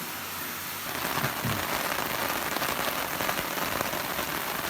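Heavy storm rain pours steadily onto surfaces and water tanks, a dense, continuous roar of drops with no pauses and no voices.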